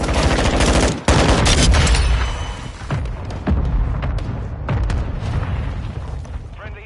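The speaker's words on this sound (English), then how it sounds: "Friendly mortar strike on the way." Friendly mortar strike explosions in Modern Warfare 2, loud booming blasts with gunfire crackling around them, one sharp heavy impact near the start and further thuds trailing off, with voices talking underneath.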